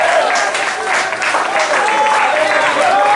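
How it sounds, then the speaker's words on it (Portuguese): Congregation clapping at a Portuguese-language church service, a dense, steady wash of applause filling the whole stretch, loud and continuous, with voices mixed in. "Aplauda ele, glorifique e louvado seja Deus."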